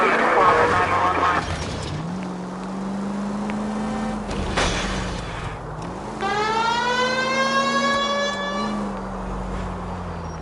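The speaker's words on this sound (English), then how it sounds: "They might move if you use the siren, Phelps." A police car siren in the L.A. Noire video game wails in rising and falling sweeps over a car engine, with a voice speaking over the start of it.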